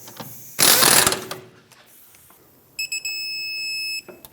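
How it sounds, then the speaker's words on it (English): Ratchet and torque wrench on a rear shock mount bolt of a 2012-2020 Ford Focus, tightened to 85 foot-pounds: a loud burst of rapid ratchet clicks, a quiet pause, then a sustained electronic beep from the wrench. "Let's bottom it out and then torque it to 85 foot-pounds."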